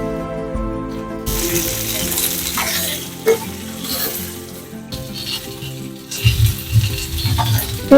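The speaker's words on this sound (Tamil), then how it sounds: "இதெல்லாம் திருப்பி போட்டு நல்லா ரோஸ்ட் பண்ணி எடுத்துக்கலாம்" Ingredients for Arabian-style mandi biryani roast and fry in a pan with a loud, steady sizzle, broken by scraping stirs and turning that bring sharper bursts of crackle.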